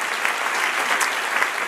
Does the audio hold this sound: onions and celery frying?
no